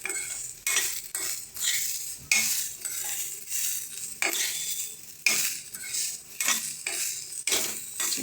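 Utensil scraping and stirring ingredients in a hot cooking pan with roasting sesame, repeated rhythmic scrapes with light sizzling underneath, close and steady, no talk.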